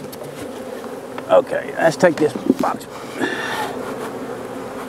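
Honey bees buzz steadily around a hive box in a constant, close drone, while someone speaks over the swarm.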